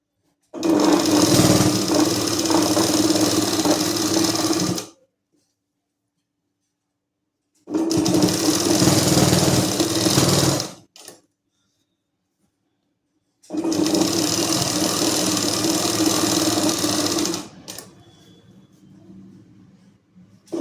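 A sewing machine stitches salwar (patiala) fabric close up, running loudly in three separate bursts of several seconds each, with quiet pauses between them.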